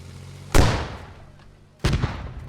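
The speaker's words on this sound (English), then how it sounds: "And the rocket misses." Two sharp blasts from a video game skirmish, an RPG rocket launch and its impact, each a sudden broadband boom with a decaying tail, about a second apart, with faint background noise between.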